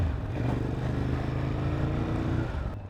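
A 2018 Ducati Monster 821 motorcycle runs steadily up close, its engine drone rising and falling slightly as it shifts through gears, with no talk over it.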